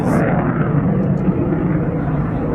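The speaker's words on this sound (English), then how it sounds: "It's that absolutely stunning new F-15 QA." A new F-15QA fighter jet flying at an aviation air display, producing a loud, continuous broadband roar that stays strong throughout.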